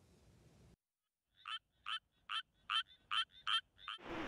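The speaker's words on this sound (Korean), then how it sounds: "수원 평리들의 서식 중인 수원 청개구리의 울음소리입니다." An endangered Suwon tree frog calls from the Pyeongri fields in Suwon, South Korea: a series of about eight evenly spaced, slow, metallic-sounding croaks, clear and fairly close against a quiet night background.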